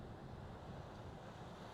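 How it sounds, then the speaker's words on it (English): Sea waves breaking along the coast at Dunstanburgh, a steady broadband wash of surf mixed with gusting wind buffeting the microphone, continuous and fairly faint with no voices. "listen to those waves"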